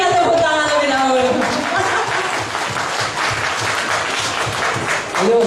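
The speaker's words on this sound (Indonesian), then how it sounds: "Berikan tepuk tangan lebih dahulu." Seminar audience in Timor-Leste claps loudly and steadily for several seconds, the dense clapping mixed with chuckles and a voice speaking near the start.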